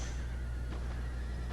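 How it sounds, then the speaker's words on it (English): Horses neigh and whinny in a video game battle set in the late 1700s, a sustained whinny over a steady low rumble of the game's background, with no talk. "Horses charging uphill."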